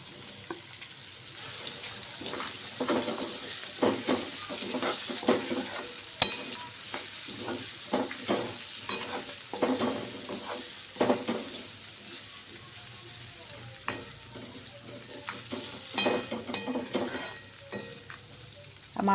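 Tindora (ivy gourd) stir-fried in a pan with garlic: steady sizzling under a run of scraping, clattering stirs, close and fairly soft, with a quieter stretch near the end.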